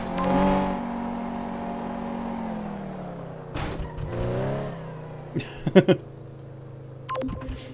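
Engine of a car in Car Mechanic Simulator 2015 during a suspension and road test, a steady hum with shifting revs and a few short clunks and bumps near the end.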